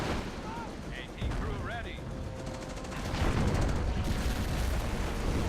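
Anti-tank guns fire in a Company of Heroes battle, with dense, continuous booms and crackling gunfire layered over background voices and battle noise.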